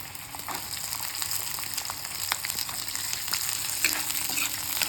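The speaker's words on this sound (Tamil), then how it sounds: "கூடவே நான் ஒரு 150 சின்ன வெங்காயம் போட்டுக்கிறேன்" Small shallots sizzle in hot oil in a pan for a mutton curry, a continuous close crackle dotted with sharp pops and occasional stirring.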